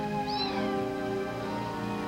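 A cat with a broken leg meows in a drawn-out, plaintive cry, close and fairly quiet over a steady background hum.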